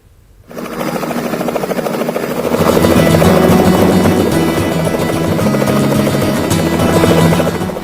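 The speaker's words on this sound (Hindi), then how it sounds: "जोरदार आवाज के साथ हेलीकॉप्टर का पंखा घूमने लगा" A helicopter standing before a crowd of villagers at a wedding procession starts up, its rotor and engine rising from quiet into a loud, steady whirring buzz with a rapid rhythmic chop that holds to the end.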